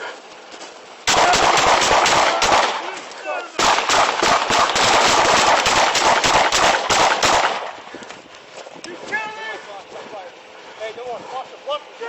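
Police officers fire a rapid volley of about twenty shots at a bat-wielding man, loud dense bursts with a brief pause between them, followed by quieter shouting voices.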